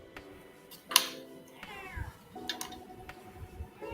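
A cat meows several times, close and fairly quiet, with a sharp loud cry about a second in and softer meows later over faint room noise.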